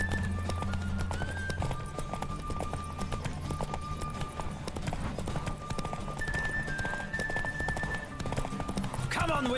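Steady galloping hoofbeats from the horse Roach in The Witcher 3: Wild Hunt drum in a fast, even rhythm throughout, loud and close, with sustained tonal music layered over them.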